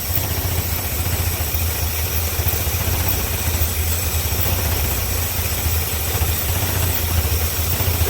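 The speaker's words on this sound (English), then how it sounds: "Engine's running exactly the same" A Chevrolet square body truck engine idles steadily after diesel was mistakenly pumped into it, a low, even rumble that holds constant throughout with no change in rhythm.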